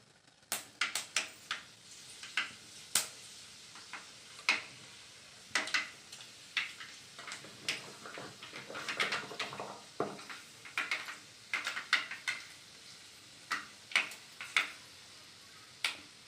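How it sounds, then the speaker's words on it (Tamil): Fenugreek seeds frying in hot oil, scattered sharp pops and crackles in an irregular, fairly quiet patter that thickens midway and then thins out again. "எண்ணெய் காயிட்டோம் வெந்தயம் போட்டுக்கலாம்"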